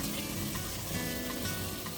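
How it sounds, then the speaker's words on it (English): Oil sizzles and crackles steadily as chopped onions and green chilies fry in a pan, close up, with no voices. "frying 2 chopped onions and 5 to 6 green chilies in 2 tablespoons of oil"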